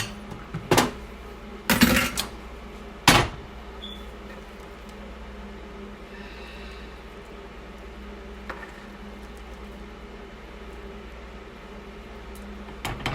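Boiled Yukon Gold potatoes for homemade mashed potatoes clunk into a bowl, three loud knocks close together near the start, then a quiet kitchen hum.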